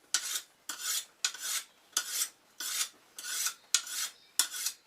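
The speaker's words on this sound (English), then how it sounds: "And while you're there, you sharpen your sickle." A sickle blade is sharpened by hand with eight rhythmic rasping strokes, each a crisp scraping swipe separated by brief pauses, close and fairly quiet, with no talking.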